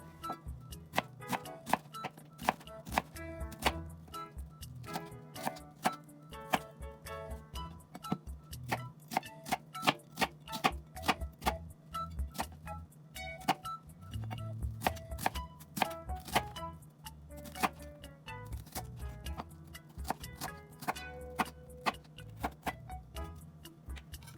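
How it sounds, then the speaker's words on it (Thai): Shallots being chopped into small pieces with a knife on a cutting board, a fast, steady run of crisp tapping strokes close by, continuing with no speech. "จากนั้นนะคะเราก็จะมาหั่นหอมกันค่ะ โดยหอมเราจะหั่นเป็นชิ้นเล็กๆเหมือนกันค่ะ"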